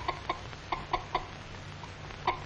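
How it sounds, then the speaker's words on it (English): An old hen clucks with a string of short, sharp calls in irregular bursts, fairly close, with quieter gaps between them and no voices. "This fussy old hen doesn't like to have cats and kittens around."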